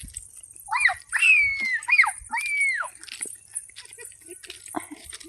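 A voice yelps and whines in short bursts, imitating a dog, three or four quick high calls close to the microphone.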